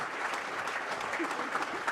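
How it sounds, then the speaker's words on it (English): Applause from an audience at a 2015 county sports awards ceremony, a steady wash of clapping hands that stays loud and continuous throughout with no break. "Give them another round of applause"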